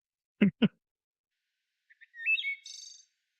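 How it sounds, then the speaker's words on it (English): Birdsong in a quiet setting: a pair of sharp chirps, a pause, then a short, bright trill of rising and falling whistled notes, fairly close and alone. "Are you gonna add the bird sounds over this as we're doing it?"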